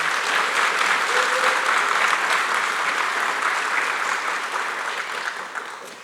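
Audience applauding a guest, Shantae Johnson, at a talk about a Black community food hub in Gresham: sustained, dense clapping from a large crowd, steady throughout and tapering slightly at the end.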